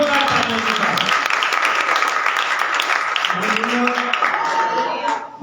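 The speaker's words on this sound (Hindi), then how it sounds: "जोरदार तालियों के साथ।" Loud applause from a church congregation at a Sunday service, dense and sustained for about five seconds before easing at the end, with voices mixed in.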